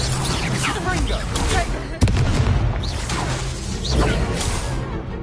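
Confringo blasting spells exploding in the wizarding action game Hogwarts Legacy, with booms, whooshes and a sharp crash near the middle among combat noise, while a voice casts spells over the fight.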